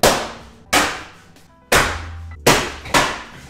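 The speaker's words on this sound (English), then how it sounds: "Crush a can." A can being crushed with hammer blows in a workshop during a VW bus restoration: five sharp, loud metallic impacts at irregular intervals, each ringing briefly and fading before the next strike.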